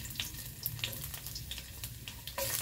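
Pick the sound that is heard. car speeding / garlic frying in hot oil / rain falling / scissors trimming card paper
garlic frying in hot oil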